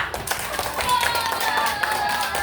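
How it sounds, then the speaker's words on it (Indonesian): Children in a classroom clap together in a brief, uneven patter of hand claps, with voices mixed in under the clapping. "Coba tepuk tangan untuk Arya."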